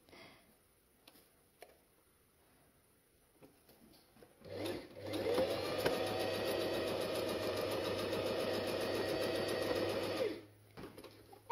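A sewing machine stitches a fabric pouch, starting after a few faint handling clicks and running at a steady, close, whirring hum for about six seconds before stopping.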